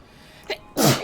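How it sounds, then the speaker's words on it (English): A single sneeze, close and loud: a short sharp intake, then an explosive burst of breath that trails off within half a second. "I'm gonna sneeze."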